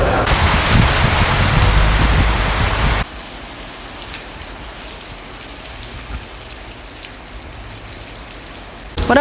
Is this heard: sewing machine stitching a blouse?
no